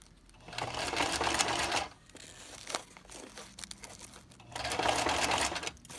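Sewing machine running fast while stitching crepe paper ruffles, two sustained whirring bursts separated by a brief pause, with papery crinkling throughout and no speech.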